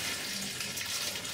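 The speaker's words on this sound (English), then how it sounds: "Just give it a little dash of water." Water poured from a can onto compost in a pot before tomato planting, a faint steady splashing trickle alone for a moment.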